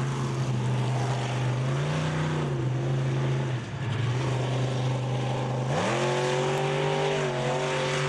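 A monster truck revs hard while powering into a drift around a fairgrounds speedway in Indianapolis, its engine note rising and falling with a sharp climb near the end, loud and close throughout.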